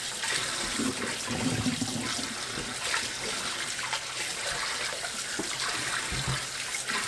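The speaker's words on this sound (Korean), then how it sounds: "고등어를 깨끗하게 씻어주세요." Mackerel being rinsed under a running kitchen tap, with a steady broadband rush of water pouring and splashing for the whole stretch, close and fairly loud, with occasional louder splashes as the fish is handled.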